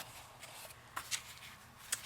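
Soft rustling and a few crisp flicks of paper pages being turned, quiet and close, with brief sharper snaps.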